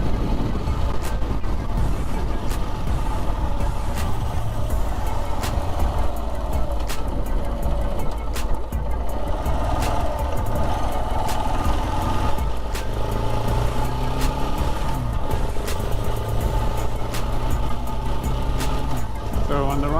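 A motorcycle rides through the town of Ennis, its engine droning loudly and steadily with continuous road and wind rumble.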